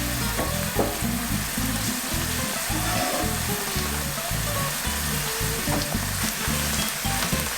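A crab and prawn linguine sauce seasoned with salt and pepper sizzles loudly and continuously in a hot pan as it reduces, a dense, close frying hiss with no talking.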